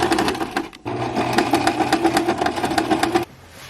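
Sewing machine running steadily around the outer edges of an embroidered Christmas stocking, a close, continuous motor whir with rapid needle chatter that cuts off near the end.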